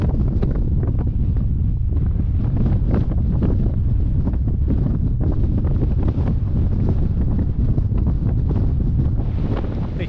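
Steady, heavy wind buffeting and roaring across the microphone without a break on a ride along a remote road in Ireland, a dense low rumble throughout.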